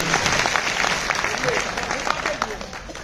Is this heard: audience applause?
yes